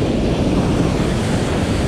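Ocean waves break steadily in the surf zone on a Cabo San Lucas beach, a continuous loud roar and wash with no voices.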